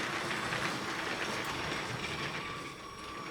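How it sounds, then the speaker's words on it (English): Continuous rolling rumble of a LEGO City toy train running along its track, steady and close, easing slightly toward the end. "There's a slowdown, and the train proceeds."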